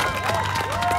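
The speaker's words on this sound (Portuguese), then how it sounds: "Um aplauso pro Cirildo" A crowd claps and cheers for Cirildo in a brief, continuous burst of mixed applause and voices, with no clear pause.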